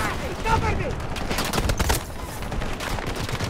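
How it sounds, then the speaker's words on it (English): Rapid gunfire in the Battlefield 2042 video game, with dense overlapping bursts and shots that fill the whole stretch at steady loudness, while a voice is faintly present underneath. "I just got shot through the smoke."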